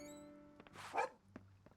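Dogs in the farming game Story of Seasons: Grand Bazaar give a short, faint bark and a few soft yips over a quiet musical tone.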